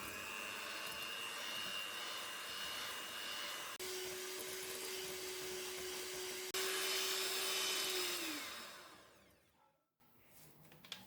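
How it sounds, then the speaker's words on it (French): Egg yolks and sugar beaten for a sponge cake with an electric mixer give a loud steady whir, then a motor tone that drops as the speed changes, before it winds down to near silence and restarts faintly. "On ajoute notre sucre à nos jaunes d'œufs et on vient mélanger jusqu'à ce que le mélange blanchisse et double de volume."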